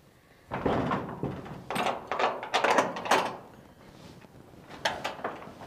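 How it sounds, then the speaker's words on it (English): An indoor door is pushed shut on a sheep farm, giving a run of soft thumps, scrapes and knocks over several seconds, fairly close and quiet, with no talking. "Let me get this door closed."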